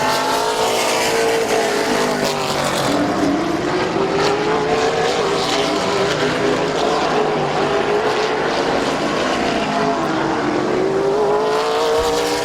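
Race cars roar around Midvale Speedway on the final lap toward the white flag, a loud continuous engine drone with rising and falling pitch sweeps as the pack passes, no talk over it.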